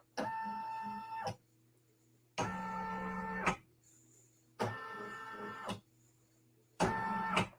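An embroidery machine traces the outline of a design in four separate motor bursts, each about a second long, with a steady whirring hum and short quiet gaps between them, heard up close.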